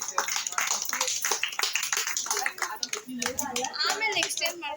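Crowd applause for a first-prize winner at a neighbourhood Ganesha festival prize-giving: dense clapping that runs steadily throughout, mixed with overlapping voices and chatter.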